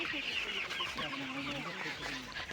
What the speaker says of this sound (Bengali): এই যে এখানে মুরগি অনেকগুলা মুরগি এখানে মুরগি চাষ হয়